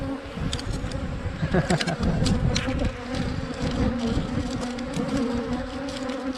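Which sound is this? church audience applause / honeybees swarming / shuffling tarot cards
honeybees swarming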